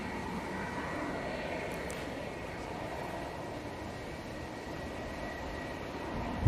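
A TUI Boeing Dreamliner airliner at Manchester Airport gives a steady, fairly distant jet roar that holds evenly for the whole stretch with no voices.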